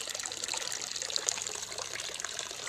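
Water trickles and splashes steadily from a bamboo fountain, a bright continuous babbling with small droplet splashes, close by and without talk.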